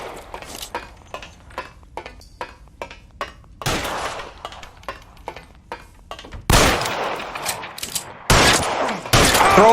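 Sharp single shots from a .45 pistol in L.A. Noire, fired one after another in an irregular rhythm amid a gunfight, followed near the end by several louder, heavier bursts of crashing gunfire.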